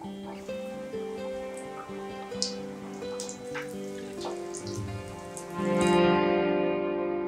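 Onions sizzling as they fry in oil for bajji, a steady crackling hiss with scattered pops and a louder burst near the end, with no talking.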